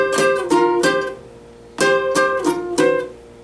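Electric guitar plays power fifth chords in a slow lesson demonstration, six separate strums in two groups of three, each ringing briefly before the next, heard alone without talk.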